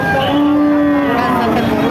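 A cow at a cattle market moos loudly and close by, one long drawn-out low call holding steady for the whole stretch.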